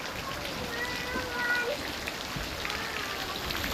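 Heavy rain pours down in a steady, even hiss of drops striking surfaces, fairly quiet overall, with a faint voice-like sound briefly rising over it.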